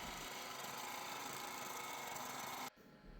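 A dull skew chisel scrapes and rasps against a small piece of wood spinning on a lathe, making a loud, steady rough cutting noise up close that stops suddenly near the end and leaves quiet motor hum.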